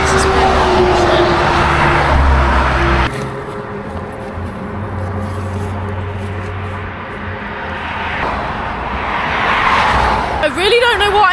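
Cars pass along a wet motorway in the rain, a steady close whoosh of tyres on the wet road that swells and fades with each vehicle, heard from the roadside.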